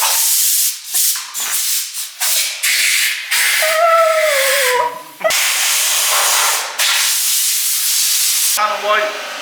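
Compressed air blasts across the body of a Ford Escort Mk2 rally car in repeated loud hissing bursts with brief gaps between them, close by, with a squeaky whistling tone partway through.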